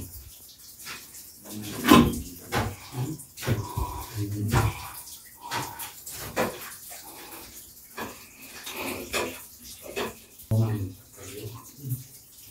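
Water flows and splashes through an underground hole, heard as uneven gushing and sloshing bursts with quieter gaps between them, while people talk at times.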